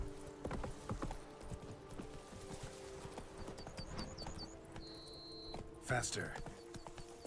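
Roach the horse from The Witcher 3: Blood and Wine, clip-clopping hooves in a steady rhythm under game music, with a brief whinny near the end and someone speaking over it.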